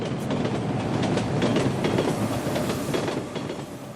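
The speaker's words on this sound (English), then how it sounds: "That train is really loud." A train passes loudly and close, a dense rumble with rhythmic clickety-clack of wheels on rails that eases slightly toward the end.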